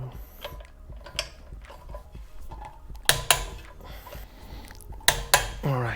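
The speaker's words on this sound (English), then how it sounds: "torque wrench at 50 Newton meters with a 14mm" Torque wrench with a 14mm socket set to 50 Nm tightening wheel bolts on a new Core Moto Apex 6 forged wheel on an Aprilia RSV4: close metallic ratcheting and clinking, then two sharp double clicks as the wrench releases at torque.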